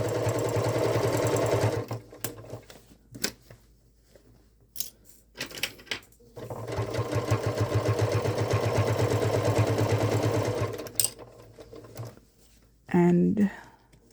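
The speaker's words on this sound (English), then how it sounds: "Now we're just going to go ahead and sew that loop." A home sewing machine runs in long, steady buzzing bursts while stitching the thick loop of a fabric Christmas stocking with toes, pausing between runs; someone talks briefly in the gaps.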